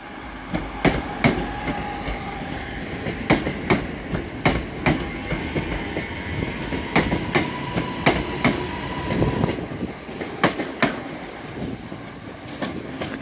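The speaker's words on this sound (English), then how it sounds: "leaving now is a Northern Class 323. To Stoke-on-Trent." A Northern Class 323 electric train departs Manchester Piccadilly for Stoke-on-Trent. Its wheels beat a rhythmic clickety-clack over the rail joints, sharp repeated knocks above a steady rolling rumble, close by and continuing throughout.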